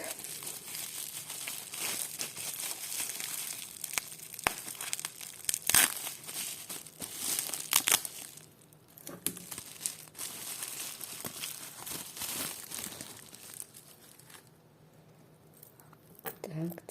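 Crinkly plastic packet holding vintage jewellery being unwrapped up close, with bursts of sharp crackling and rustling that come and go, quieter gaps between handlings.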